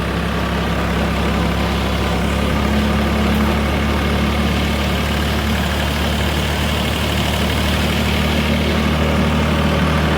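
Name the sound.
tractor engine idling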